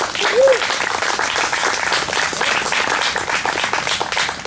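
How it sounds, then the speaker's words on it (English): An outdoor park audience applauds volunteers after a cannon demonstration, with dense, loud, sustained clapping and a brief whistle or cheer near the start. "let's give our volunteers a round of applause"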